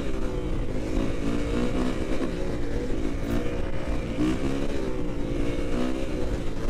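A car passes on a cold, windy day, its engine note rising and falling in a steady drone that stays loud throughout, with wind rushing over the microphone.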